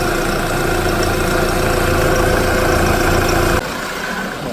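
A Honda CR-V engine idles close by with a steady low hum and rumble that drops slightly in level near the end; no voices.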